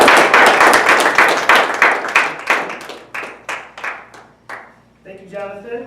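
Applause from a meeting audience welcoming its president, loud rapid clapping that thins into scattered separate claps and dies away, with a voice starting to speak at the end.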